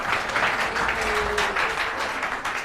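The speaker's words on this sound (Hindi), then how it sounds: "ताली बजाएंगे बेटा एक बार बच्चे के लिए" Classroom of students clapping for a classmate, a steady dense patter of hands that holds at an even level from start to finish, with no talking over it.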